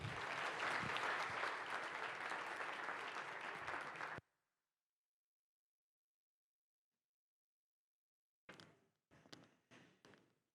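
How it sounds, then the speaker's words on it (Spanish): An audience gives a speaker a warm welcome with dense, loud applause that cuts off abruptly into silence, followed by a few scattered knocks and taps. "recibamos a Isabel con un fuerte aplauso"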